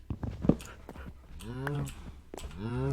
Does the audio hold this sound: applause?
no